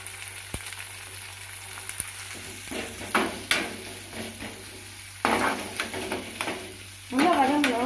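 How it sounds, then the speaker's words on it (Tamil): Small onions fry in oil for a mushroom gravy, a steady sizzle punctuated by sharp utensil clinks and scrapes against the pan, with a voice speaking briefly at the end. "அதனால் வந்து சின்ன வெங்காயம் சேர்த்துக்கிறேன்."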